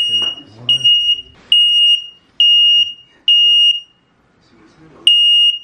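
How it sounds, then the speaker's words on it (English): A smoke alarm set off by an air fryer beeps loudly in a home, a series of piercing repeated tones in a steady on-off rhythm, with a voice talking briefly between the first beeps. "Every single time that I use this stupid ass air fryer, it sets off the alarm."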